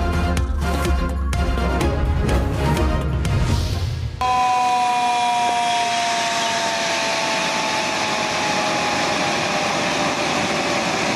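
A siren wails steadily before the spillways of Rawal Dam are opened, a sustained rising-and-falling tone over heavy broadband noise, loud and continuous after an abrupt cut from rumbling activity.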